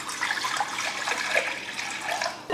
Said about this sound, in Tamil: அதில் வந்து 1/2 கப் அளவுக்கு தண்ணி ஊற்றிக்கலாம்